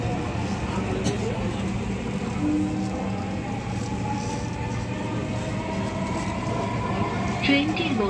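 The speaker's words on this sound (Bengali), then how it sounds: "This train is bound for Uttara Uttar." A Dhaka metro rail train runs between stations, with a steady rolling hum and whining motor tones rising and falling, while an onboard announcement and people's voices are heard over the ride.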